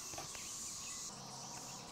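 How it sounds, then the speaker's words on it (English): Cicadas in a garden tree give off a faint, steady high-pitched buzzing drone, heard from nearby against quiet outdoor background. "Oh my goodness, look at these cicadas."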